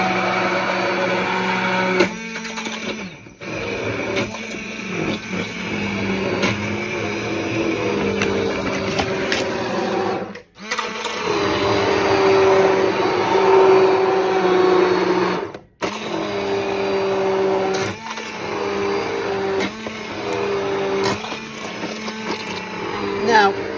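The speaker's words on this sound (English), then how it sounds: "So you take your immersion blender and you put it in," An immersion blender whirs through green pea soup in a kitchen, its motor droning loudly in long pulses broken by a couple of short stops, with a person talking over the noise.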